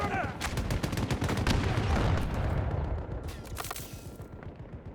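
Rapid video game gunfire crackles loud and dense in bursts for most of the stretch, tapering later, with a man's exclamations mixed in.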